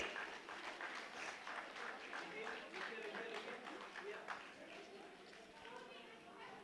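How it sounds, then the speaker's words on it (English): An audience at a school event claps for a student, a faint, distant patter of many hands spread across the room, with talk mixed in throughout. "I want you people to clap for Nihit"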